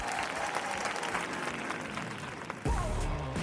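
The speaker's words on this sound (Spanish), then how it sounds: "Aplausos, aplausos. Me gusta empezar el podcast aplaudiendo." Steady applause runs at the start of a podcast, moderately loud but slightly distant, then stops abruptly near the end as a low bump and a brief tone take over.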